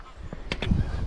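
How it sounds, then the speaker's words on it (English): Geese along the West Highland Way near the Crianlarich crossroads give two or three honks in quick succession, moderately near and clear over faint outdoor background. "And there are those geese."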